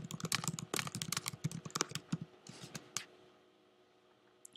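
Rapid keystrokes on a computer keyboard, close and distinct, tapping in quick bursts for a couple of seconds before trailing off into near quiet.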